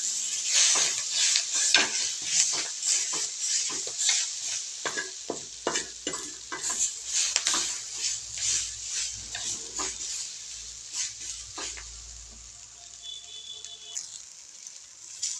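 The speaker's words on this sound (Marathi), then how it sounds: "भाजी आपण चांगली परतून घेऊया." Fenugreek leaves (methi bhaji) stir-fried in ghee in a pan, a soft steady sizzle broken by repeated scraping and stirring strokes, close and fairly quiet.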